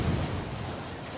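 Steady low rumbling gust of wind in Elden Ring: Shadow of the Erdtree, a broad noisy whoosh with no distinct events, moderately loud and continuous throughout.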